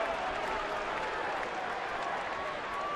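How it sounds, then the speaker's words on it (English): Baseball crowd at Fenway Park, Red Sox against the Yankees with bases loaded in the fourth, a steady broad roar and murmur of many voices with scattered clapping, loud and continuous throughout. "This crowd at Fenway is starting to get restless"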